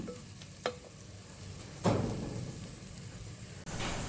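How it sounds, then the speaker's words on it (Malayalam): Chopped tomatoes sautéing for a chicken curry in a pan, a soft steady sizzle broken by a few clinks and scraping stirs, close and fairly quiet with no talk. "ഇനി നന്നായിട്ടൊന്ന് വഴറ്റിയെടുക്കാം."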